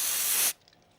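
A loud, close burst of aerosol spray into a vintage Sega console, one steady hiss lasting about half a second before cutting off abruptly to near silence.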